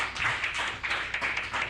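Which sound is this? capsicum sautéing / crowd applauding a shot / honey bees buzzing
crowd applauding a shot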